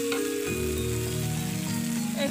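Spices for an egg spicy pasta fry in a pan, a steady close sizzle with a faint crackle throughout and no talking.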